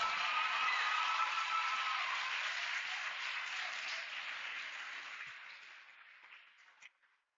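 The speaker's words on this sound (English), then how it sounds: "A round of applause for Doreen." Audience applause at an African Science Academy graduation ceremony, a broad, sustained wash of clapping that slowly fades out over several seconds to silence.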